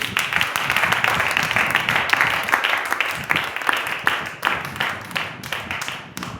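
A church congregation applauds at length, with dense, moderately loud clapping that keeps a loose rhythm and thins out toward the end, along with some crowd murmur.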